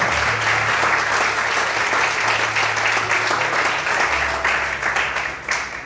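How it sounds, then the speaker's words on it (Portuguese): A congregation in a church claps continuously in a thick, even wash of applause that tapers slightly near the end. "Você pode aplaudir o Senhor?"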